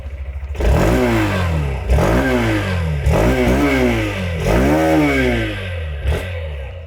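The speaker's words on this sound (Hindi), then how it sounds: "Since I switched on the bike for you, exhaust note भी हम सुन ही लेते हैं इस बाइक का." A Hero Xtreme 160R motorcycle is revved at standstill, its exhaust rising and falling through five or six sharp throttle blips with a throaty, loud, close note between idle stretches.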